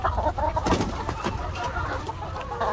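Laying hens cluck in a coop at nesting time, a steady murmur of soft, overlapping calls at close range with no talking over them.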